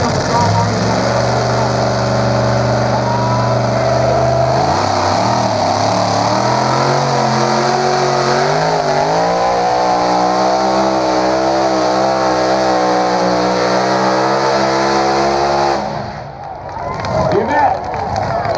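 A pulling tractor at a Columbus, Texas tractor pull roars continuously at full throttle, its loud, dense engine tone shifting in pitch as it works under load before dropping off abruptly near the end, with crowd noise and talk mixed underneath.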